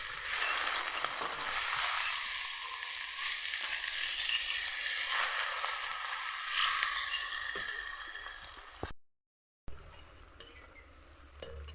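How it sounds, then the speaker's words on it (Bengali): Chopped onions fry in hot oil with bay leaf and dried chilli for a mustard rohu fish curry, a steady close sizzle with occasional clinks of a stirring utensil, briefly cutting out near the end before the sizzle resumes. "এই দেখো পেঁয়াজগুলোকে লাল লাল করে ভেজে নিলাম"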